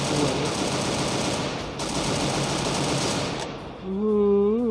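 Rapid automatic gunfire in the Free Fire video game, a dense continuous burst of shots lasting several seconds before breaking off into a brief tonal game sound.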